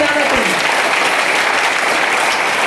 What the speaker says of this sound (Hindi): इतने जोर से ताली हो जाना चाहिए